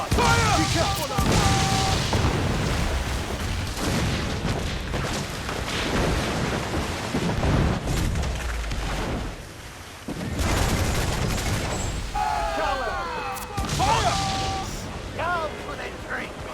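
Ship cannon volleys in the naval battle game Assassin's Creed IV: Black Flag, Freedom Cry, booming repeatedly amid crashing battle noise, with shouted voices throughout.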